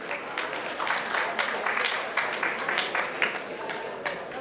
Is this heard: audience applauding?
yes